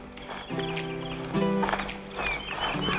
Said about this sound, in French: On va chercher notre petit cheval.